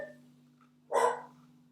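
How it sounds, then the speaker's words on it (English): A dog barks once in the background indoors, a single short bark at middle distance over a steady electrical hum. "you can hear my dog barking in the background"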